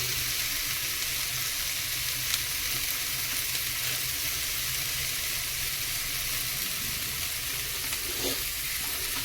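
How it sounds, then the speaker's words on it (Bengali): Spices for a thin summer rohu fish curry with mixed vegetables fry in a pan, a steady close sizzle with faint stirring and no voices throughout. "ব্যস্ত হয়ে গেল মশলা আমার এবার সুন্দর করে এটাকে ভেজে"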